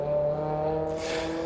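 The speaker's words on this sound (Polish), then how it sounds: "Silnik V10." A BMW V10 engine runs at a steady, smooth idle with a strong even hum, heard close, with a brief airy hiss joining near the end.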